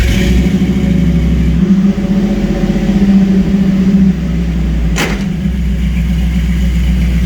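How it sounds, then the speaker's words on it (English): An LS-swapped Chevrolet C10 idles loudly up close with a steady low rumble and a faint rhythmic lope, its tone shifting slightly partway through, with a brief sharp click near the end. "Starts right up, idle's good"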